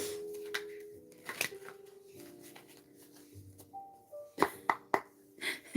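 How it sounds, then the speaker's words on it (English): Tarot cards being shuffled by hand at close range, soft riffling and sliding with scattered taps, then a run of sharp card snaps and slaps toward the end, no talking. "More shuffles."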